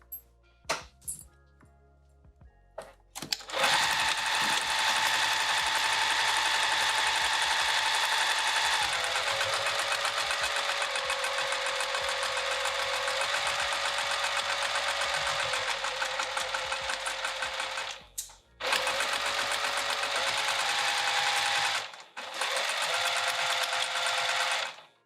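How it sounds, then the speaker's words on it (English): A sewing machine stitches a seam across a bag with piping, running loud and steady for long stretches with brief clicking stops in between, and no talking. "we're gonna sew all the way across there"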